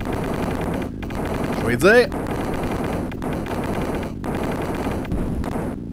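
Rapid bursts of gunfire and a sweeping electronic zap from a Sega tank video game, a dense rattling barrage running the whole time while an excited voice talks over it.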